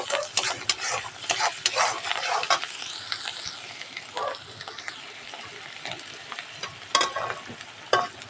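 A potato filling sizzles in a pan while a spatula stirs it, making repeated quick scraping strokes over a low frying hiss, with a few sharper clacks near the end.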